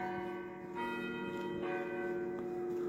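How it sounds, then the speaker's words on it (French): Church carillon bells ring in a Savoy village, with sustained tones overlapping in a steady, resonant wash and fresh strikes landing every second or so, and no voices present. "on a le carillon qui sonne."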